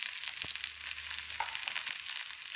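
Spices fry in a pan with a continuous bright sizzle and crackle, close up and steady, with a couple of soft clinks of stirring, while an eggplant dry palya is being cooked.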